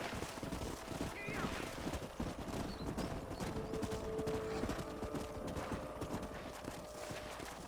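Rapid hoofbeats of horses galloping in the video game Red Dead Redemption continue steadily, with a brief whinny early on and faint background sounds.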